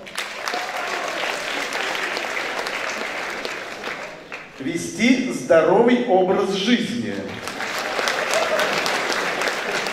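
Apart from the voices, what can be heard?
audience applause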